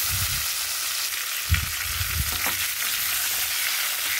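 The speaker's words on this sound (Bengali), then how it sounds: "এবার ইলিশ মাছগুলো সব ভাজার পর আমি বেগুনগুলো একে একে ভেজে নিচ্ছি।" Eggplant slices frying one by one in hot oil, after fish has been fried in the same pan; a steady bright sizzle with a few soft low bumps as pieces are moved.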